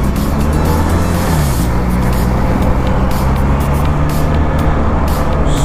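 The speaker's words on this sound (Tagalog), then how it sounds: "Gusto ko yung engine nito guys dahil ang ganda na tunog niya, tsaka smooth yung engine." A QJ SRK 400 motorcycle engine runs steadily and loudly up close, its smooth, even drone holding throughout with no talk over it.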